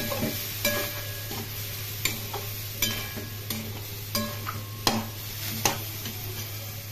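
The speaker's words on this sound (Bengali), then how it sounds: "এখন খুব ভালো করে কষিয়ে নেব।" Soybean chunks, cauliflower and pumpkin curry with turmeric, salt and a little water stir-fried in a pan, about ten sharp spoon scrapes and knocks at a regular pace over a low steady sizzle, close by, no voices.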